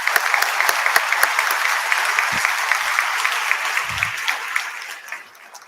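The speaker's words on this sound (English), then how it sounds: "let's give another round of applause" A university convocation audience applauds with dense, lively clapping from many hands that holds steady and then tapers off near the end.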